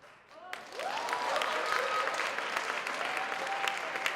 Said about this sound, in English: Namibians, clap hands for yourself for not taking part in xenophobia.